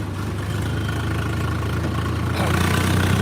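A 15/17 model Swaraj tractor idles steadily at close range, a low continuous diesel thrum with even engine pulses that grows slightly louder near the end, with no talk over it.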